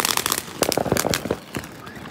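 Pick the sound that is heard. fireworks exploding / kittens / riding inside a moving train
fireworks exploding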